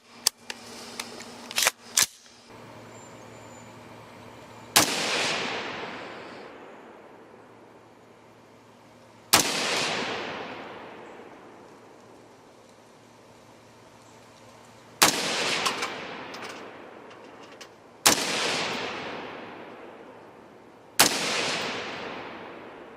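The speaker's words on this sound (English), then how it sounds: "We're going to shoot it a few times and see what that looks like." Five sharp, loud rifle reports from a PSA Sabre 15 AR-style rifle at an outdoor range, each shot a single crack followed by a long decaying echo, spaced several seconds apart, with a few faint clicks before the first.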